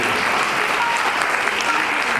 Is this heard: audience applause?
yes